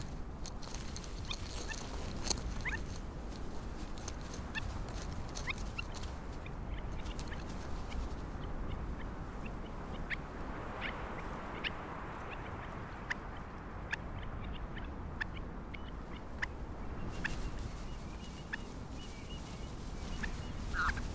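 Stone curlew chicks and their mother calling in the wild, a scatter of short, high, sharp chirps and cries over a steady outdoor background, with no voices.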